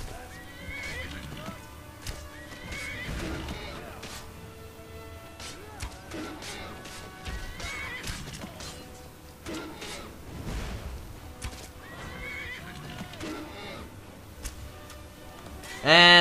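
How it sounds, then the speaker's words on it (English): Horse neighs and clip-clopping hooves come from the video game Skyrim, with several whinnies and steady hoofbeats throughout, joined by fainter game sounds and a sharp burst at the end. "get off the horse"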